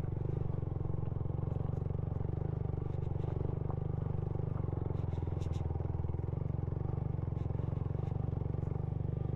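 A motorcycle engine drones steadily throughout, with occasional rattles and clatter from a bumpy, rough, sandy and rocky road in Burgos, Pangasinan; no one talks.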